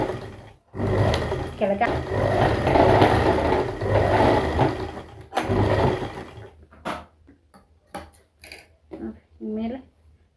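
Sewing machine stitching pants, running loud and continuous for several seconds, then stopping and starting in short bursts while someone talks over it.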